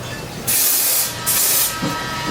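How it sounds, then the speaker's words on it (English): Two sustained bursts of lace melt spray hiss from an aerosol can onto a wig during an install, each lasting under a second, close and loud, followed by a fainter short puff. "I'm gonna spray it with the lace melt spray"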